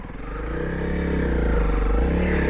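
A Honda CRF300L Rally motorcycle engine labours in second gear while climbing off road on a soggy, slippery trail, a close, steady single-cylinder thrum that gradually builds in loudness, with faint clatter underneath.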